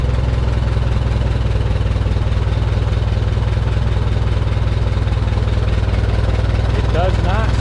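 A 1949 JI Case LA tractor, its engine recently freed after being seized, idles with a small exhaust leak: a loud, close, steady rhythmic chugging that holds an even pulse from start to finish.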